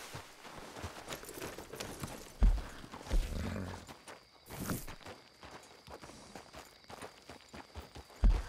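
Horse hooves in the video game Red Dead Redemption 2 (RedM roleplay), soft, irregular clopping steps under faint background ambience with a few louder thumps.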